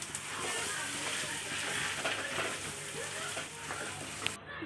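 Boiled potato stirred into sizzling fried masala for a Kolhapuri kat vada filling makes a soft, constant frying hiss with scraping stirs, quiet and close throughout.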